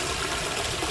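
Water in a swimming pool sloshes and splashes briefly, a short, close, busy wash of liquid noise with no voices.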